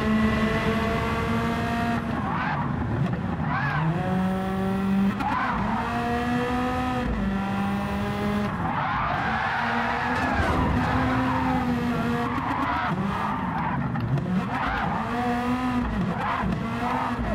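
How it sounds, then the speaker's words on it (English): A 1984 Nissan Skyline Super Silhouette drifts in Gran Turismo 7, its tires skidding and squealing steadily over a loud, continuous engine drone that rises and falls across repeated slides. "I was trying to drift it, and that's it."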